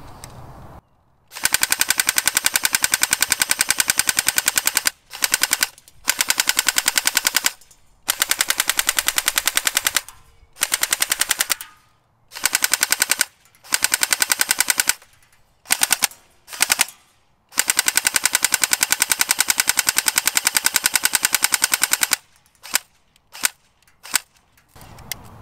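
An LCT airsoft AK fires full auto in long and short bursts, a sharp rapid rattle broken by pauses, loud and close with no talk.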